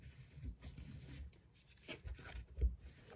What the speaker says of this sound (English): Some shuffling, of course.